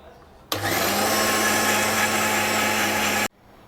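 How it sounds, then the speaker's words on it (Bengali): A mixer grinder grinding ginger and green chilli into paste whirs loudly and steadily for about three seconds, starting and cutting off abruptly, with no talking. "আদা আর কাঁচা লঙ্কাকে পেস্ট করে নিচ্ছি।"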